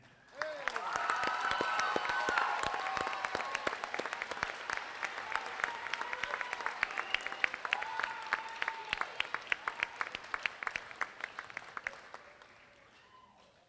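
Audience applause at a Galvin school graduation ceremony, a broad wash of many clapping hands that swells, holds, then thins into scattered individual claps before fading out.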